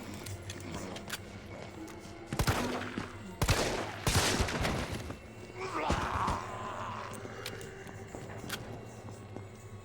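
Video game gunfire crackles in several sharp bursts at a moderate distance over constant background ambience, and a voice groans briefly in between.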